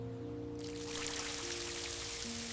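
Water pouring onto garden flowers starts abruptly after a moment of quiet and then runs as a steady, fairly faint gush over a low background hum.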